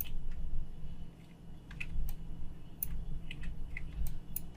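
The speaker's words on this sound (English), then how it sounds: "I'm hitting the wrong key on my keyboard" Computer keyboard keys pressed while working in Maya modeling software, a few scattered soft clicks close by and fairly faint over a low background hum, irregular in rhythm.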